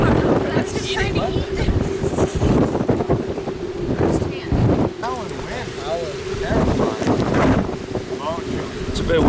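Outdoor wind in the desert around Palm Springs, California, buffets the microphone with a continuous loud roaring rumble for the whole stretch.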